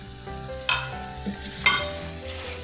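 Spices stirred into sizzling white chicken handi: a steady frying hiss with a few scraping strokes of a spoon against the pot, close and clear, with no talking.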